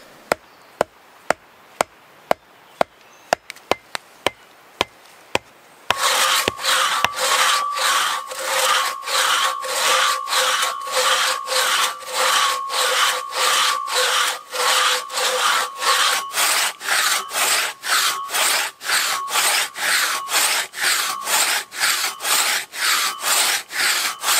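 A quick series of sharp, evenly spaced axe chops on wood, from an axe with a 1.2 kg head and 70 cm handle, then a long run of steady back-and-forth crosscut saw strokes, close and loud.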